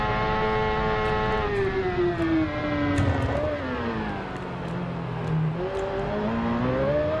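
A Suzuki GSX-R motorcycle in the racing game RIDE 2 revs loud and continuous, its engine whine climbing, easing off and surging again as the throttle opens and closes.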